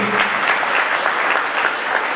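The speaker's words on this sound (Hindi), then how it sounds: "ये ताली तो बजाइए," Audience applause at a farewell gathering, steady dense clapping from many hands filling the whole stretch, loud and close with no break.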